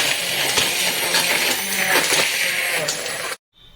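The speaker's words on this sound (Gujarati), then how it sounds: "બ્લેન્ડર દ્વારા એને આપણે મિક્સ કરીશું" A blender whirs steadily as it mixes milk with a spoonful of honey, a loud, dense motor roar that runs continuously and then cuts off abruptly near the end.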